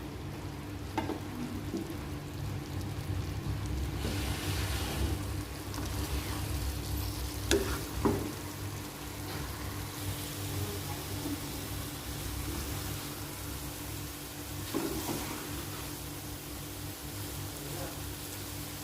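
Pumpkin and egg stir-frying in a pan, a steady soft sizzle with occasional scrapes and clinks of a spatula, fairly quiet and close, without talk.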